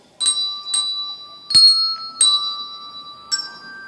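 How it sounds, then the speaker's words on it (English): Hand bells are rung one at a time by a class, giving five clear, bright rings at uneven intervals, each sustaining and fading before the next. "Get your bells ready."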